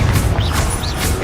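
Confringo fire spell cast in Hogwarts Legacy: a loud, sustained burst of broadband crackling noise with whistling sweeps that rise and fall, running steadily for just over a second.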